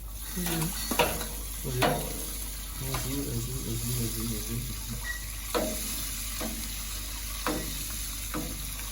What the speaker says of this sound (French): on brasse les céréales avec l'eau chaude